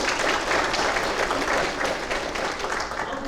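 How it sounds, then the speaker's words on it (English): An audience at a Master's orientation for a college of management gives a round of applause, a dense, even wash of clapping from many hands that sustains throughout without speech over it. "So a quick round of applause for them."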